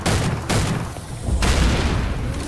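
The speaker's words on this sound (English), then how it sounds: "What I do hear is an explosion!" Explosions in the horror game The Haunted: Hells Reach, two heavy booming blasts with rumbling decay, one near the start and a larger one midway, loud and close.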